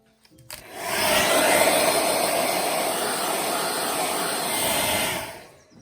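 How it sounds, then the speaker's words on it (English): A hair dryer blows steadily on the seam between a plaster mold and clay, switching on with a sharp rise and holding a constant loud broadband whoosh for about four seconds before cutting off, with no talking. "Now we blow dry the edge between the plaster mold and the clay, which then loosens"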